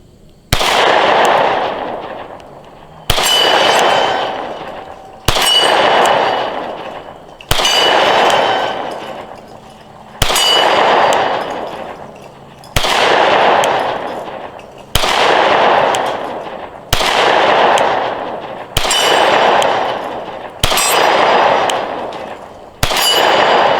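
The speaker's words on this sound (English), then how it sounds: "Gonna be shooting steel." Canik MC9 pistol shots fired one at a time at steel targets about 15 yards away, each sharp crack followed by a ringing metallic clang that decays slowly, nine or ten evenly spaced shots in all, loud and without talk.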